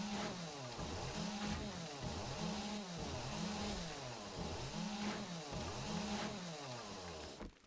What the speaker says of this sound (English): Wasn't going to try to talk over the chainsaw.